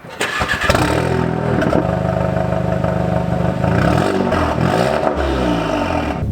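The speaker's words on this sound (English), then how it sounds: "you guys can already hear, I have the muffler delete on this car" A Volkswagen MK7 GTI engine with a muffler delete cranks and catches, then settles into a loud, rumbly idle with a raw, unmuffled exhaust tone, close by and steady.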